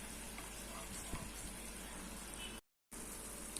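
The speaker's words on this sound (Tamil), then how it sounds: "இப்போ பாருங்கள் நல்லா வந்து கொதிச்சிருச்சு." Steady sizzling and bubbling of garlic chutney boiling in a pan, a constant hiss with a brief dropout near the end.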